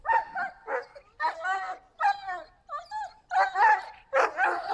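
Close, loud dog vocalizations in a home setting: a string of short barks, yips and whimpering whines in uneven bursts separated by brief silences.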